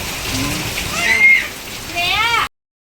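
Rain falls at night in a steady, sloshing patter, heard close under people talking, before cutting off abruptly near the end.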